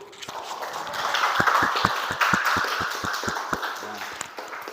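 Applause for a group-1 presentation at a teacher-training class session, a room of people clapping steadily with some sharp individual claps standing out, a voice briefly heard among it.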